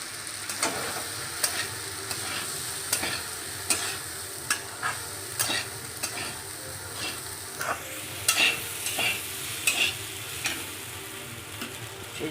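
Sabudana khichdi with fried peanuts is stirred in a pan, with repeated scraping strokes of the spoon over a steady, close sizzle.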